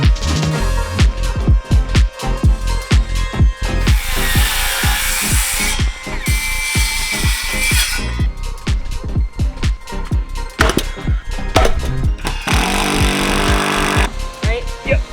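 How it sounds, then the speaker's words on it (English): A power driver sinks big, fat structural screws into an existing foundation during a tiny home renovation, loud and close, with rapid rattling impact pulses that rise and fall in bursts and voices in between. "we're gonna fasten this to the existing foundation with these big fat structural screws"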